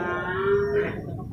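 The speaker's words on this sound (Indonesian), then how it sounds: "anak munding ya, anak kerbau" Young male water buffalo at a livestock market giving a short, low moo lasting under a second, close and moderately loud over steady market background noise.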